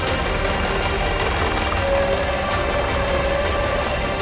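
Rescue helicopter during a flood rescue operation in Nepal, a loud continuous rotor and engine roar with a steady whine, close and unbroken throughout.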